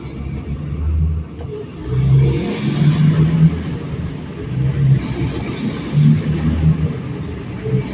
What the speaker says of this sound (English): Y'all hear them straight pipes on that peak?